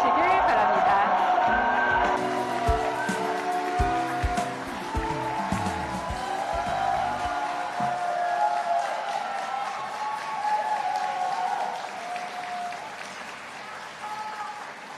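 A crowd at an event held in a disused factory in Busan applauds to welcome President Moon, the clapping and some cheers gradually thinning out, with a voice and musical tones audible over the opening seconds.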